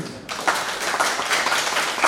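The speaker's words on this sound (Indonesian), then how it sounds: "Tepuk tangan buat anak-anak." An audience at a community information group inauguration ceremony in Kapanewon Patuk breaks into brisk, dense clapping for the children. The applause starts suddenly and stays full and close throughout.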